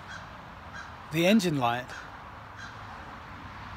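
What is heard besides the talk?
crows cawing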